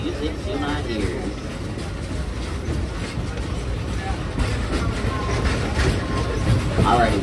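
Frisco Silver Dollar Line steam locomotive #504 hauls an excursion train along the rails, giving a steady close rumble with faint clatter throughout, while voices are heard over it.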